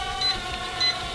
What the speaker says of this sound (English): We get the awful beeping for headless mode